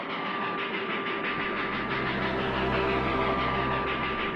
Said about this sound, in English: The sound of the wheels grinding against the rails creates a subtle dissonance.